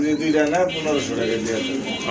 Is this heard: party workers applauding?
no